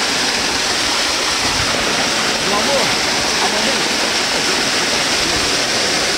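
A stream runs through a pasture with a steady, loud, broadband rushing and gurgling of water that stays constant throughout.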